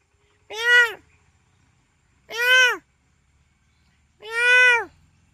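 A cat meows three times, each call long, clear and close, with about a second and a half of quiet between them.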